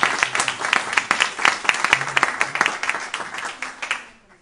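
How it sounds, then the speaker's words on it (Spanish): Audience applause at a Spanish-language book event, a dense patter of many hands clapping steadily at moderate volume for about four seconds, then thinning and fading out at the end. "me gustaría que le den un aplauso a Torres Valera."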